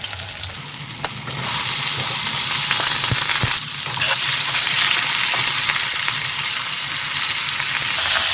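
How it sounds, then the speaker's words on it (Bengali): Cauliflower added to hot oil with a small tomato and cumin sizzles and fries in a pan. The hiss is steady and close, with occasional stirring clatter and no talk. "এই ফুলকপিটা একটু তেলের মধ্যে দিয়ে দিলাম"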